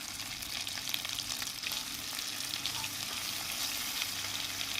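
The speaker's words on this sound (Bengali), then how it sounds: "এবার এটাকে আমরা ভালো করে একটুখানি ভেজে নেব" Chicken pieces frying in a mix of oils with whole garam masala, ginger-garlic paste and Kashmiri chili powder, giving a steady, dense sizzle that holds throughout with a faint low hum beneath.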